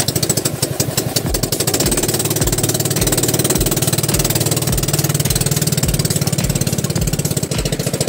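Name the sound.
boat engine starting and running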